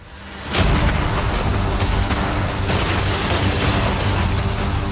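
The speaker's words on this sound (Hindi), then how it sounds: "कैनन्स को तैयार करो। देखते हैं तुम पिछले वाले कैनन्स के हमले से कुछ सीखे हो या फिर नहीं।" Cannons fire at a yacht in a sudden loud boom that swells into a sustained roaring blast with rapid crackling bursts, close and dominant for several seconds.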